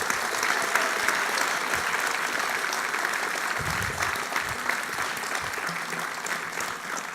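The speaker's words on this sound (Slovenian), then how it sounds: "Še en velik aplavz." Steady, dense applause from an audience at a lifelong-learning week opening ceremony in Slovenia, filling the whole stretch at even loudness, a large crowd clapping continuously with no talk over it.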